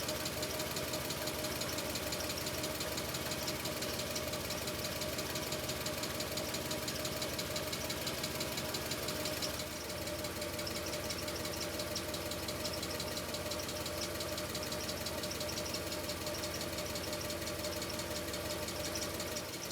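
Audi S6 V8 engine idling with a ticking lifter at the back, a steady close mechanical drone with a fast faint tick running throughout, unbroken and alone.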